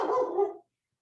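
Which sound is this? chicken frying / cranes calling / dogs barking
dogs barking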